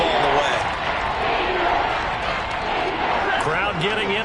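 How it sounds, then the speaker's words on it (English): Stadium crowd noise building at an NFL football game, a broad roar of cheering voices held at a steady moderate level throughout. "Crowd getting in it a bit already."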